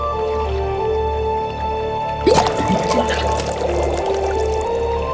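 Water gurgles and drains from a bathtub after its large drain plug is pulled in the Haunted Legends 3: The Undertaker game, starting partway through as pouring and dripping over a low hum, with a brief spoken remark.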